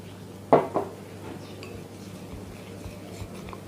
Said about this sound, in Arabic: وهبدأ اقلب المكونات تاني مع بعضها